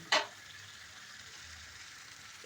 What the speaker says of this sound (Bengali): যতক্ষণ না মশলা থেকে তেল ছেড়ে আসবে খুব ভালো করে কষিয়ে নিতে হবে